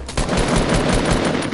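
Rapid automatic gunfire in a first-person shooter video game, a dense, loud, continuous burst of shots lasting about a second and a half, with no talking.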